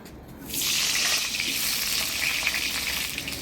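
Potatoes frying in a pan with turmeric and salt: a loud, dense hiss of sizzling oil swells up after a brief quiet start and holds steady, close and unbroken.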